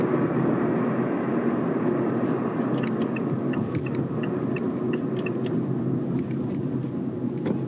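A 2021 Mazda2 drives on a road, heard from inside as a steady, moderate engine and tyre rumble that barely changes as it slows and then speeds up.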